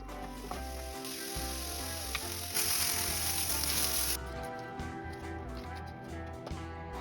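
Spicy salmon fries in a pan, giving a steady close sizzle and hiss with faint stirring and clattering in the background and a brief louder burst of spattering midway, and no one speaking.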